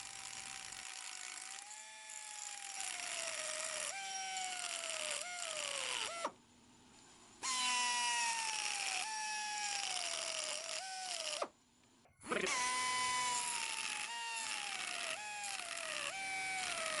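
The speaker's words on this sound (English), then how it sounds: "I switched from the grinding wheel to a carbide burr to get rid of some more material" A carbide burr grinds away metal on a broken Schaublin lathe part in repeated passes, each a high whining screech that drops in pitch under load, separated by two brief near-silent pauses.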